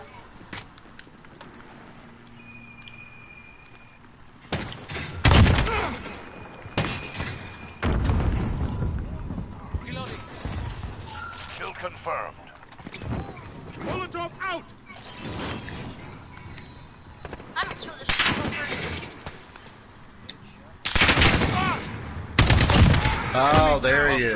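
Video game gunfire on PS4 comes in loud, dense bursts and volleys, rising and falling over the stretch, with talk mixed in between shots.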